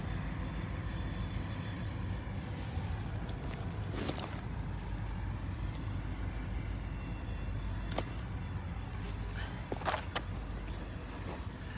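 A BNSF freight train backs slowly into the yard beside the Amtrak station in Galesburg, Illinois, giving a steady low rumble with occasional sharper knocks and squeals as cars shift, heard from a distance outdoors.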